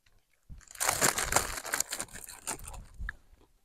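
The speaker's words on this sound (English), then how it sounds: "Got a bit of crunchy salad." Close, crisp crunching and chewing of a crunchy salad eaten with chicken, a dense burst of bites over about three seconds, loud and near with no talk.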